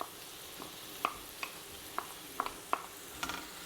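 Garlic tossed into a hot pan with browned onions, giving a faint steady sizzle broken by several sharp scraping clicks of a utensil stirring, spaced irregularly and fairly close.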